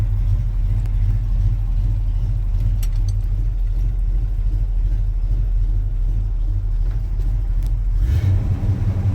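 A 1984 Chevy C10 pickup truck's engine idles steadily while warming up in a dark garage, a loud, constant low rumble throughout with a brief surge near the end.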